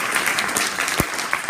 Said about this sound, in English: You can clap it up for me.